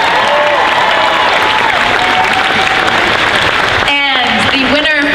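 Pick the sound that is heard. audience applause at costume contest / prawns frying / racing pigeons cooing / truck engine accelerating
audience applause at costume contest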